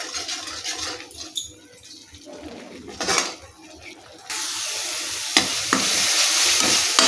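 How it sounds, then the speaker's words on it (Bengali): Spice paste for a giant freshwater prawn dish frying over a medium gas flame, stirred with scraping spoon strokes and clanks against the pan, the sizzle swelling louder and steadier midway through. "মশলাটাকে খুব ভালো মতন কষিয়ে নিতে হবে যতক্ষণ না মশলা থেকে একটা তেল ছাড়ছে"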